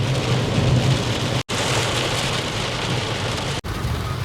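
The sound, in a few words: heavy rain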